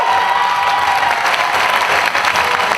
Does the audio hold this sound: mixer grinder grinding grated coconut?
no